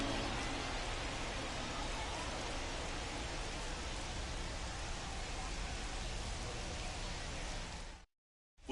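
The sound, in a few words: rain during baseball game, video game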